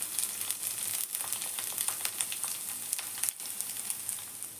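Chopped onion and curry leaves sizzle in hot oil in a pan for tomato gojju, a bright, crackling fry with small pops and one brief dip partway through, close and steady without any talk.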